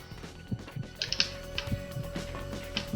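An elevator moving in the shooter game Perfect Dark Zero, a mechanical hum with a steady tone, ratcheting clicks and creaks, and faint clanks from the lift machinery, no talk.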